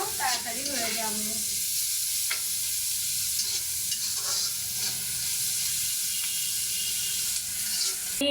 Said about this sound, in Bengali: মরিচ পেঁয়াজ একসঙ্গে ভেজে নিলে আমার কাজটাও তাড়াতাড়ি হয়ে যাবে।